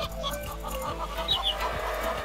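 Chicks in a video game cluck in short, soft bursts over a rhythmic, pulsing low game music loop, with a couple of higher chirps near the middle.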